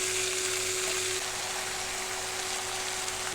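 Saag greens sizzle in a hot pan right after going in, giving a steady, dense frying hiss with a faint low hum beneath and no talking.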